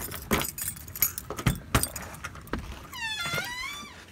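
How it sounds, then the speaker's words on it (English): A keychain holding small mini keys jangles in several quick, close metallic bursts, followed by a faint rising whine toward the end, with no one speaking. "Let me find one of the mini keys I have on this keychain."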